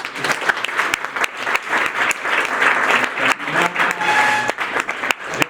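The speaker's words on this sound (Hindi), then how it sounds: "सब लोग ताली बजाएंगे।" A room full of people applauds at a coaching institute gathering honoring a selected student, loud and sustained clapping that swells and dips slightly over several seconds.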